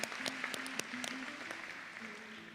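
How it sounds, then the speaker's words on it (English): Applause at a college graduation ceremony for an award winner, a dense wash of clapping hands from a crowd that holds steady and fades slightly toward the end. "Give him a round of applause"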